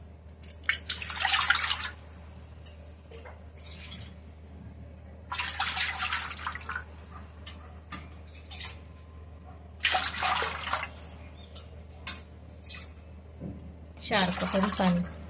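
Water is poured bowlful by bowlful into a cooking pot while preparing wheat starch for traditional papad: four separate splashing pours at steady intervals, close and moderately loud, over a low background hum.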